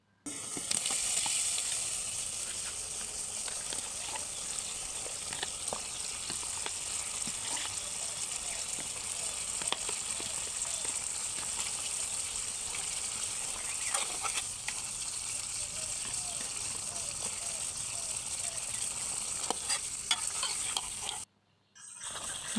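Meat and potatoes fry in spiced masala with a continuous, even sizzling hiss that lasts almost to the end, then cuts out briefly before resuming, close by with no talking.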